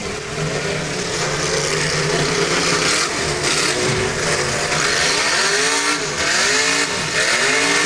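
High-revving race car engines at a dirt track race in Clearwater, a loud continuous roar with repeated rising and falling revs as cars pass near, crowd noise behind.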